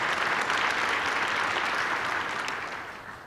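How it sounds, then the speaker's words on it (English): Audience applause at the opening of the International Seating Symposium, a dense, steady wash of many hands clapping that fades slightly toward the end, with no talk over it. "give one more round of applause to everybody that supported"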